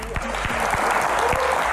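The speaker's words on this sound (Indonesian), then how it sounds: "Tepuk tangan paling meriah" An audience applauds to welcome Indonesia's health minister, Budi Gunadi Sadikin, with dense steady clapping and a few sharper nearby claps over a low hum.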